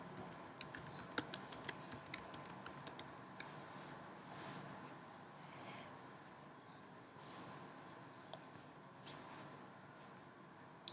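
A server name is typed on a computer keyboard: rapid, close keystrokes cluster in the first two seconds, then scattered taps follow over a steady low room hum, with no one speaking.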